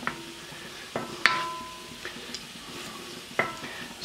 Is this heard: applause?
no